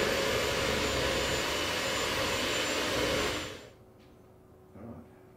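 An electric mixer whisks eggs for an Italian-style chocolate tart, a loud, steady whir that stops abruptly partway through, leaving near silence with a faint bump.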